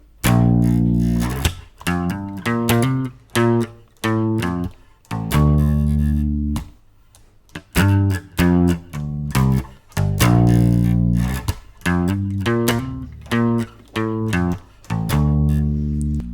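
A bass guitar plays a chorus line slowly. Distinct plucked notes ring out one after another at a relaxed pace, close and loud, with short gaps between phrases.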